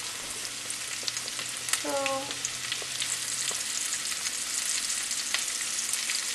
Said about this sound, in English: You need to keep stirring the onions just so that it doesn't get burned at one spot